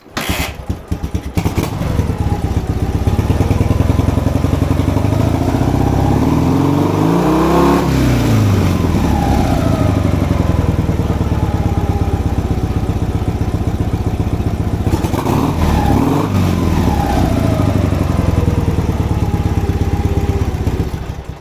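A Dnepr MT motorcycle engine sputters to life and then runs loud and close, revving up and back down twice over a rough, throbbing idle with no voices.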